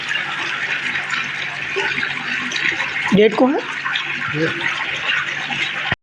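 Water gushes in a steady, loud rush from a motor pump, with a person briefly speaking over the flow midway.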